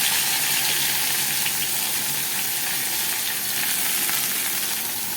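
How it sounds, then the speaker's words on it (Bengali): Kalmi greens (water spinach) frying in a pan make a dense, continuous hiss that stays loud and even throughout, close up and with no one talking. "কলমি শাক ভাজা"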